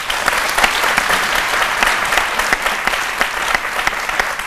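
A TV studio audience claps steadily and fairly loudly throughout, a dense even burst of applause with no talk over it.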